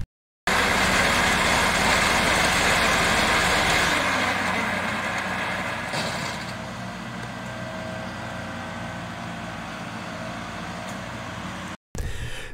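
Cab tractor engine running steadily during a pecan harvest in an orchard, a loud continuous broadband rumble that eases slightly partway through, with no talk.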